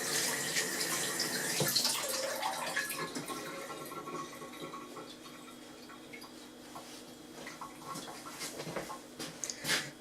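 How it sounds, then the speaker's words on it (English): Water running steadily from a tap into a sink during handwashing in a home kitchen, a continuous close hiss with small splashes and drips, no talk. "Wash my hands to make sure it's clean at all times."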